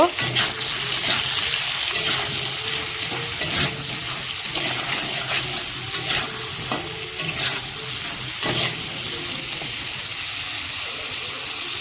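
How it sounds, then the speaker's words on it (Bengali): Pointed gourd frying in oil with salt and turmeric, a continuous loud sizzle broken by repeated scraping and stirring strokes in the pan. "পটলটায় পরিমাণ মতন লবণ হলুদ দিয়ে হালকাভাবে ভেজে নিব"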